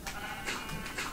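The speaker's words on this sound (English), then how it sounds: "Hey look, black sheep, gray sheep, awesome." Sheep in the video game Minecraft bleat in three short, bright calls spaced evenly, fairly faint over a steady background.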